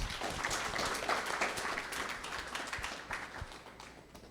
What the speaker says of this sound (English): So can we give a big round of applause to Citizen Can?